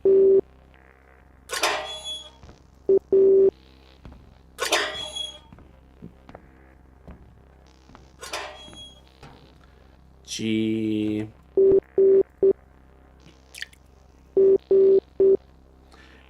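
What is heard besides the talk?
Morse code tones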